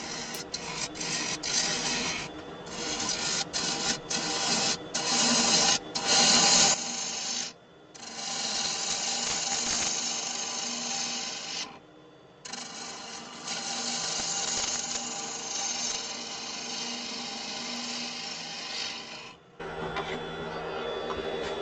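A wood lathe truing the face and shaping the outside of a rice bowl, a steady gritty scraping and rasping of the tool on spinning wood, close and continuous, with a few brief pauses between cuts.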